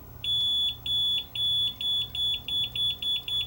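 A multimeter in continuity mode beeps repeatedly while probing grounds on an audio streamer board, a string of about ten short, steady high-pitched tones in close, regular succession.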